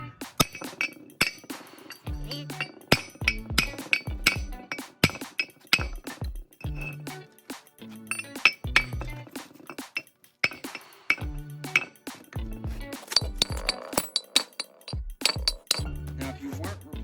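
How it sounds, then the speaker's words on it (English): A steel hammer strikes a front brake rotor on a 2015 Ford Transit to knock it loose, a long run of sharp, ringing metallic clanks at an irregular pace, some quick doubles, each decaying with a bright resonant ring. "I am destroying this rotor with this steel hammer"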